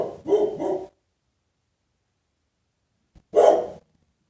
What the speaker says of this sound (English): He's barking at one of the neighbors getting out of their cars.